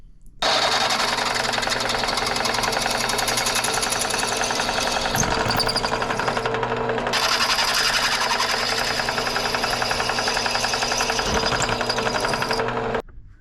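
A drill press bores through a metal part for a Cat D3C dozer lever steer conversion, a loud, steady mechanical whir and grind running continuously close by, with one brief dip midway.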